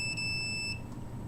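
A microwave detector sounds a steady electronic alarm tone for most of a second, then cuts off as the shielding closes, leaving only low background hum.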